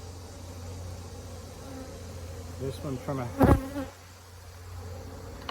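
Honey bees buzz steadily around an opened Layens hive during a honey harvest, a close droning hum under a brief spoken remark.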